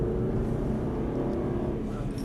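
Steady, dense engine drone from inside an Aston Martin Vantage on a race track, holding a constant roar with no clear rise in pitch over a couple of seconds.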